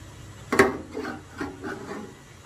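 Short rubbing, scraping clicks of a fitting being twisted onto a Sơn Hà S79 stainless kitchen sink, one sharper knock followed by a few softer turns, close and fairly quiet with no talk.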